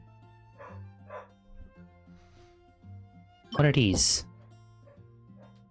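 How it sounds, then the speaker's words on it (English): A dog gives a sharp, loud burst of barking midway through, briefly overpowering a person talking and game music playing underneath. "I said close the door because the dog's barking."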